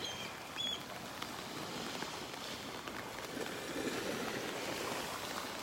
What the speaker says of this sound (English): Little waves, just little tiny waves lapping on the shore here.